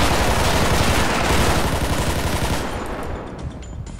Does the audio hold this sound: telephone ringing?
no